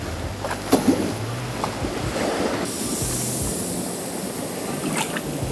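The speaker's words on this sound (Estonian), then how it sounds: "Lained on siin ümber päris suured" Large sea waves wash around an abandoned shipwreck off the Greek coast, a steady roaring surge with a few sharp knocks early on and a louder rush of water building midway.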